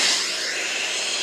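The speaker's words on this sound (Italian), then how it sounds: "No, occhio all'aspirapolvere, bro." A vacuum cleaner item in the Fortnite video game gives off a steady, loud, airy hiss and whine that runs unbroken and close for its full brief length.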